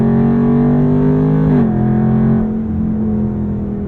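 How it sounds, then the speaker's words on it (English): A Dodge Charger Scat Pack Widebody's HEMI V8 pulls hard under acceleration, a loud close droning engine note that rises, dips briefly at a gear change, then settles into a steadier, slightly quieter drone. "But the HEMI noise is so good."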